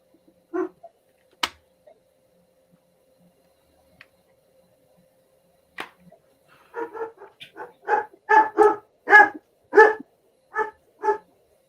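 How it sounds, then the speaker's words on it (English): A dog barking indoors during a trivia game night, a few sharp isolated barks early, then a rapid burst of repeated close, loud barks toward the end. "Apparently, this dog knows the answer because he keeps shouting it out."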